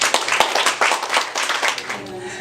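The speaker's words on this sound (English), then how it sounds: "let's first give a quick round of applause for our panelists" Audience applause for a panel of speakers at a confidence-building talk: a dense, steady round of clapping from a crowd that fills the whole stretch and eases off slightly at the end.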